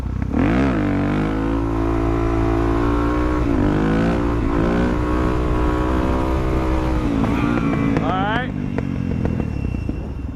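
A motorcycle that is not running well revs hard in second gear during a wheelie, a loud, close engine roar that climbs and falls in pitch through several surges and then drops off near the end.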